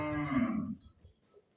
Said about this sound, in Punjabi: ਹੈਪੀ ਬਾਈ ਦੇ ਕੋਲ ਆ ਗਈ ਜੇ ਮੱਝ ਬਿਲਕੁਲ ਤਾਜ